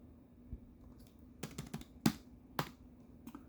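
Quiet computer keyboard typing and clicking while searching an online shopping site: a sparse handful of light, separate clicks spread unevenly, with no voice.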